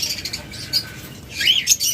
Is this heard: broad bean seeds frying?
no